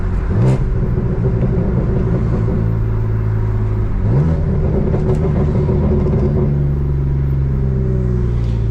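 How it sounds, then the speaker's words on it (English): A BMW M3 engine with a manual gearbox rumbles close by and is blipped twice, rising briefly in pitch each time as the driver shifts down. "I'm tapping the gas while I'm putting the car in the next gear."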